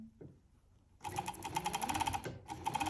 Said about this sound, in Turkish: Lastikle beraber kumaşı dikiyorum.